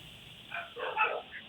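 A dog that has got loose barks a few times in the distance, short faint yips rising above a quiet background.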